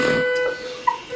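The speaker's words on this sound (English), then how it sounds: "And that's the alarm." A nearby fire station alarm sounds as a steady, sustained electronic buzzer tone, moderately loud, then fades as someone speaks briefly over it.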